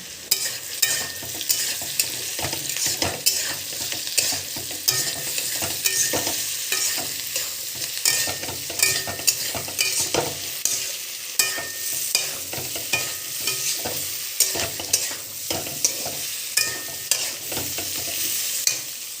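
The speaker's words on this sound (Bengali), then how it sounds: "হলুদ আর নুনটা দিয়ে দেওয়ার পর আবার কিছুক্ষণ নেড়ে নেব" A spoon stirs khichuri in a pan after turmeric and salt go in, scraping and knocking at a steady, fairly regular rhythm over a soft continuous sizzle, close by and with no talk.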